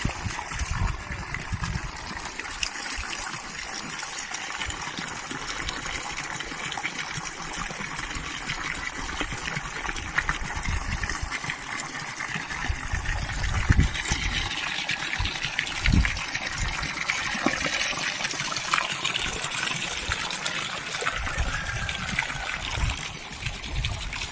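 Water gushes steadily into a rooftop swimming pool on a new house, a continuous close rushing and splashing stream with no pause.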